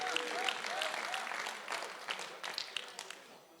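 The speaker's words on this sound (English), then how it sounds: "give them a round of applause" An audience at a men's church gathering claps and cheers in a sustained round of applause that slowly thins out, with a few scattered whoops and a voice briefly heard.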